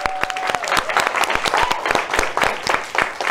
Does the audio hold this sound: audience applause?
yes